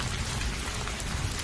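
Heavy rain pours steadily and loudly over a riverside village, a dense continuous hiss with no pauses and no voices.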